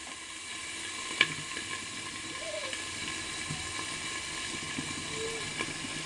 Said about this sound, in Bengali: পেঁয়াজকলি আর আলু কেটেছিলাম, পেঁয়াজকলি আলুটা